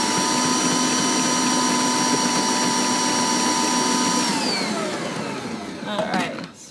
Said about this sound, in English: I grate a lot of cheese.